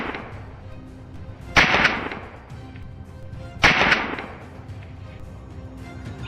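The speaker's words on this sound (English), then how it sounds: "The shot cracked loud and sharp" Two loud, sharp rifle shots ring out during a hunt in a dense forest, about two seconds apart, each a sudden crack followed by a fading echo, with no voices.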